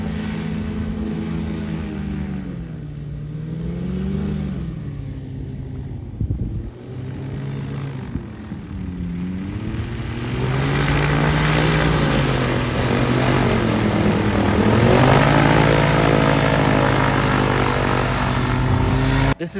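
Several paramotor trike engines buzz and drone during a trike competition in Brazil, pitch rising and falling as the machines weave past, growing louder and fuller in the second half with overlapping propeller hum.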